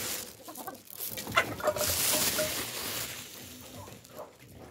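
Criollo hen clucking at close range, a run of clucks and rough calls that swells to a dense, scratchy peak before easing off, with faint rustling around it and no voices.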